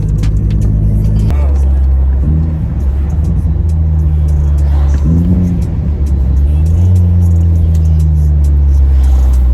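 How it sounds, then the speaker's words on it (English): A Vauxhall VXR engine hums loudly and steadily from inside the cabin, pitch shifting a few times as it eases through gears, with low road rumble throughout. "Car sounds peng, man."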